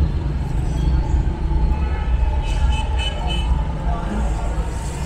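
An Orange Line metro train in Lahore, Pakistan rumbles with a steady low hum throughout, with faint higher tones from the ride heard from inside.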